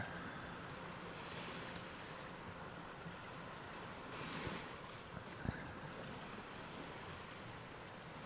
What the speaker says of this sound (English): It is very nice in this tent right now, listening to the sound of the waves.